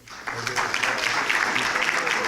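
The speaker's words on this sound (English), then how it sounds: "hold your applause, please" Applause breaks out at a chamber of commerce breakfast award presentation, a dense crowd clapping that rises quickly and holds steady throughout, fairly close and loud.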